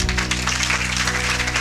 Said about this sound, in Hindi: आदित्य के लिए ताली बजाओ।